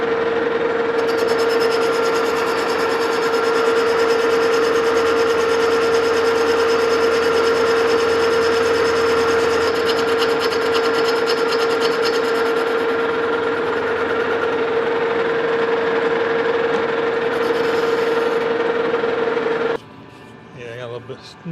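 A metal lathe bores a bronze connecting rod for a steam stoker engine, producing a steady loud machining whine with a constant tone that stops abruptly near the end, and a voice is heard under it.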